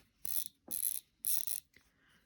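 Drag being loosened on a Zebco fishing reel, three quick ratcheting clicking bursts close up, then a faint fourth, in an otherwise quiet room.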